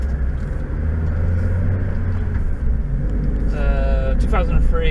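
A 2003 Mazda MX-5 1.8 VVT Sport drives along, its cabin filled with a steady low engine and road rumble close up, and someone talks over it toward the end.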